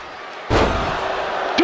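A door slams shut once at a wrestling match, a sudden loud bang followed by a brief ringing tail, with a smaller knock near the end.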